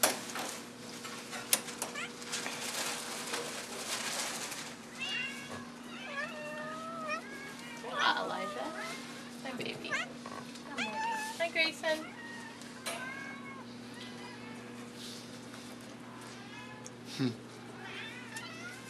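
Several cats meow repeatedly in an animal shelter, their cries rising and falling in clear bursts over a steady low hum, while a person talks through most of the scene.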